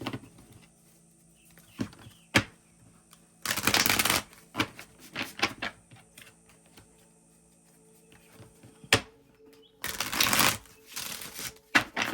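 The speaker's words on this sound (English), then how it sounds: "Shuffle, and you start, Leo." A deck of playing cards is shuffled in two loud, dense riffling bursts a few seconds apart, close by, with scattered sharp taps and clicks in between and faint music underneath.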